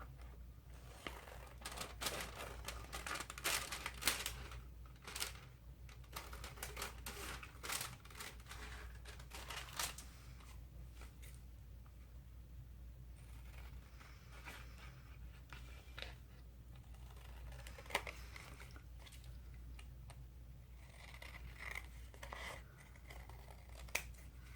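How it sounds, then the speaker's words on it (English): Scissors snip through paper journal ephemera and light cardstock in irregular bursts of crisp cuts, close and quiet, with paper rustling between them and no talk. "So let's cut these other ones out."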